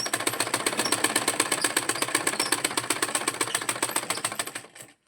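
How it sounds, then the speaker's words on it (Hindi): A sewing machine runs steadily, stitching fabric for a home tailoring job. Its rapid, even mechanical clatter stays loud and close for about five seconds, then winds down and stops, with no talking. "तो सिलाई लगाते हैं पहले"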